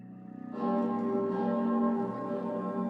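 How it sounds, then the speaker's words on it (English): A large bell rings in the Lost in Random game world, its toll swelling in after a soft lead-in and then sustaining a rich, ringing tone that is held steadily, with no voices over it. "The bell's ringing."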